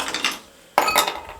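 Ice cubes clatter and clink into serving glasses for plum sharbat in two close, bright bursts with a short lull between them.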